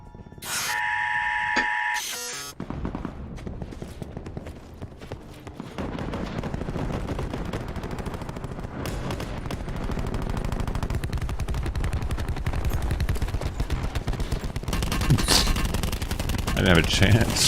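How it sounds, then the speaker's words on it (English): Dense video game gunfire rattles nearly nonstop, rapid automatic bursts layered into a loud continuous barrage, opening after a short tonal alert sound. "Three people shooting at me"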